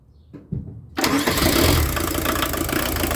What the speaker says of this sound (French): Le moteur va démarrer difficilement.